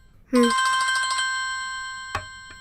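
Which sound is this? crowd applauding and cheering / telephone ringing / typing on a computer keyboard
telephone ringing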